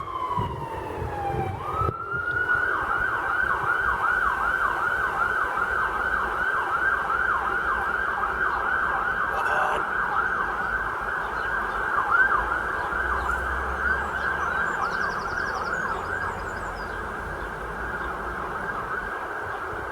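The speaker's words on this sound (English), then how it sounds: "now let this siren go past." An emergency vehicle siren wails as it passes along a road beside an allotment on a summer day, loud and continuous for many seconds over faint traffic rumble.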